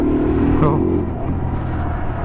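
2020 Kawasaki Z125 Pro SE motorcycle accelerating, a brief rising engine note that drops into a steady ride drone, with someone talking over it.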